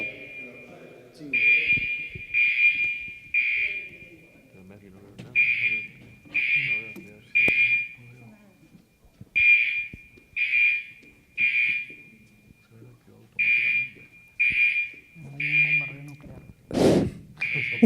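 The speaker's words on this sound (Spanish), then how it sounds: "Están apagando la alarma, ha sido un error técnico." A fire alarm sounds in repeated loud, even beeps in groups of three separated by short pauses, over voices and room noise in a space where a talk is underway.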